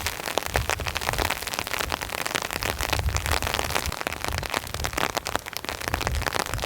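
Heavy rain drumming on a camper van and tarp during a storm, a dense, steady crackling patter close by with no voices.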